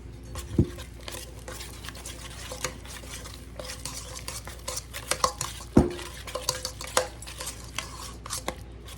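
Ingredients for orange cranberry pinwheels being stirred in a bowl, a steady run of scraping and clinking spoon strokes with a few louder knocks against the side, close and without talk.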